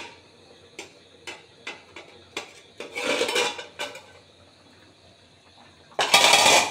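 A pot lid lifts with a metallic clatter and a spoon stirs a potato and bora curry simmering on low gas, giving close clinks and scrapes, a brief rush of noise midway and a louder burst at the end.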